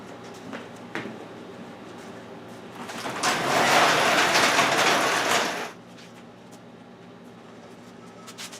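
A large door in a garage being opened, a loud, rough rolling rattle lasting about three seconds, set between quieter stretches of background noise and faint clicks.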